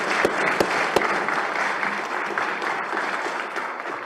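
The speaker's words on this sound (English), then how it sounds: "And could we have another round of applause for Frank?" A round of applause fills the Senate gallery, steady clapping from many hands throughout, close and fairly loud with no pauses.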